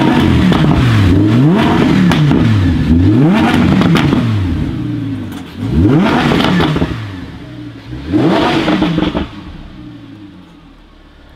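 Audi R8 V10 Plus with an aftermarket exhaust revving hard in repeated loud bursts, each rising and falling sharply, over a steady idle, close by and with no talk.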